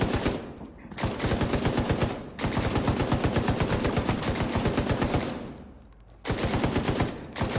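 Sustained bursts of rapid automatic gunfire ring out in the shooter game Tom Clancy's The Division 2, broken by a few short pauses, loud and dense throughout.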